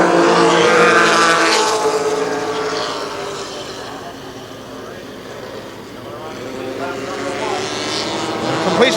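ARCA stock cars roar at full throttle around the Kil Kare Speedway oval in 1994, a loud, sustained engine drone that rises and falls as the pack passes, with an announcer's voice over it.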